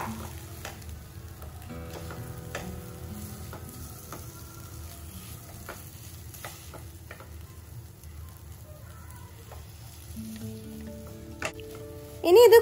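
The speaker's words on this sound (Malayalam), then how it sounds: "ഇനി മസാലൻ്റെ പച്ചമണമൊക്കെ ഒന്ന് മാറി വരുന്നവരെ ഒന്ന് വഴറ്റിയെടുക്കാം" Masala with mashed boiled potatoes being sautéed in a pan, a faint, steady sizzle with occasional scraping stirs, quiet throughout with a brief louder clatter at the end.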